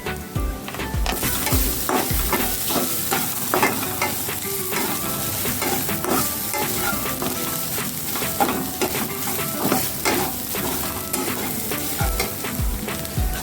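Ivy gourd (tondli) sautés in a pan with homemade black masala: a close, continuous sizzle broken by rhythmic scraping strokes of a spatula stirring, with no one speaking.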